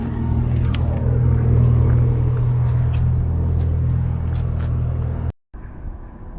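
A Chevrolet Camaro with its check engine light on idles close by in a steady low rumble that cuts out abruptly near the end, followed by quieter background sound.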